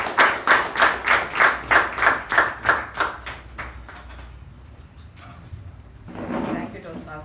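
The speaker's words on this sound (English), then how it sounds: "Please, with a big round of applause," Applause at a Toastmasters meeting, a rhythmic round of loud, evenly spaced claps that quickly fades to scattered taps, followed by a brief murmur.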